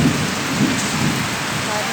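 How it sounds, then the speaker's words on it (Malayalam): Heavy rain pours steadily in a thunderstorm with wind, a dense continuous hiss close by, with low rumbling beneath and no voices. "നല്ല ഇടി വെട്ടി മഴ പെയ്യുന്നുണ്ട്"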